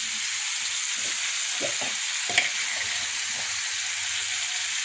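Paneer frying in a pan sizzles steadily with a bright hiss, broken by a few soft scrapes and knocks of stirring and one sharp clink near the middle.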